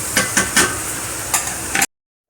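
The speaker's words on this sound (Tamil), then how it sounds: "பட்டை லவங்கம் எல்லாம் போட்டு செவக்க விட்டு வெங்காயத்தை போட்டிருக்கோம்" Onions frying in oil with cinnamon and cloves for a biryani, heard as close, loud sizzling broken by several stirring scrapes, then cut off abruptly into silence.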